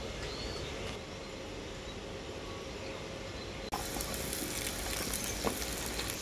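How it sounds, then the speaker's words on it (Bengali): Potatoes and brinjal sizzle steadily as they fry together in a pan, a constant crackling hiss that holds throughout, with a brief clatter partway through. "আলুর সাথে বেগুনটাকে অল্প একটু ভেজে নেব"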